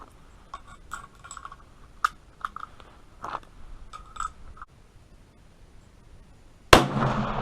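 A .223 Remington rifle loaded with 55-grain Sierra bullets and 25 grains of XBR powder fires one sharp, loud shot near the end, after a stretch of faint handling clicks.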